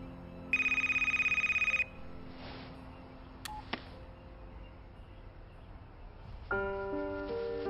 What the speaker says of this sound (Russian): Кажется, у тебя важный звонок.